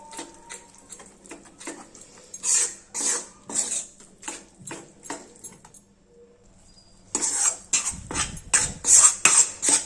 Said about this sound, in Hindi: हम इसमें थोड़ा थोड़ा करके बेसन को मिलाते जाएंगे और चलाते जाएंगे ताकि बेसन में कोई भी गुठली ना पड़े